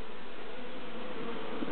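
Honeybees buzz steadily in a dense, close drone around a queen bee breaking down a queen cell in a hive, heard briefly with no voices.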